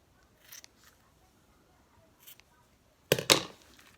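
Scissors snip twice in quick succession, crisp and close, trimming the string ends of a Maori poi tassel after a couple of faint earlier snips.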